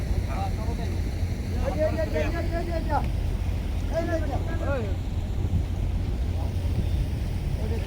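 A boat moves on a river near Demra in Dhaka, with strong wind buffeting the microphone and a steady low rumble throughout, while people talk over it.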